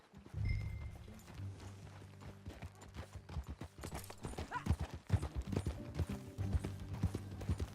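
Horse hooves clip-clop steadily at a walk in the video game Red Dead Redemption 2, close and fairly quiet, with faint creaks and low ambient rumble beneath.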